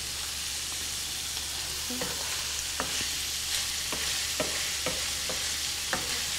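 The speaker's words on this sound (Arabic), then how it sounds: "حاليا بنحرك الكبده" Liver fries in a pan for Saudi-style tacos while a utensil stirs it, giving a constant soft sizzle broken by regular light scrapes and knocks against the pan, close and without talk.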